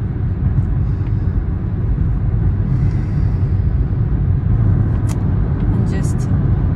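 Steady low engine and road rumble from inside a car during a commute to work, a continuous close drone with no clear breaks.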